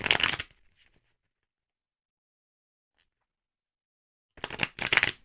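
Tarot cards are shuffled in two quick riffling bursts, one at the start and one near the end, with near silence between them.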